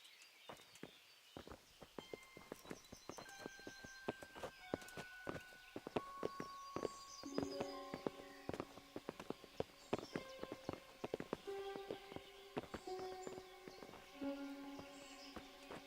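Horses' hooves clip-clop at a walking pace on hard ground in the medieval video game Kingdom Come: Deliverance, steady and fairly close, with game music notes sounding alongside and no talking.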